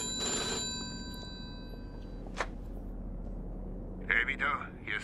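An old telephone rings in the video game Mafia 2, a loud sustained bell tone for about two seconds, followed by quieter room ambience and then brief speech.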